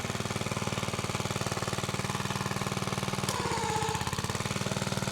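A small tiller engine runs at low throttle with a steady, rapid thumping putter, close and alone, its pace briefly changing midway.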